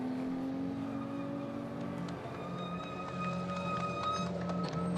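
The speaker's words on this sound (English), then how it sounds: "a racing car's transmission whine" Racing car at a Japan Cup 2024 race at Okayama, its transmission giving a steady high whine with sustained tonal engine drone, loud and continuous without talk.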